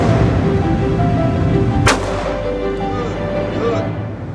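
A single handgun shot fired at a concealed carry range in Illinois, one sharp loud crack standing out against steady background noise, with no talk during the shot.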